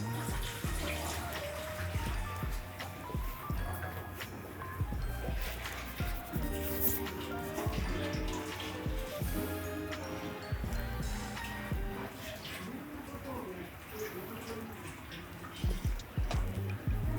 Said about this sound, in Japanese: だいたい全体の2割ちょっとぐらいですかね、を目標に注いでいる感じです。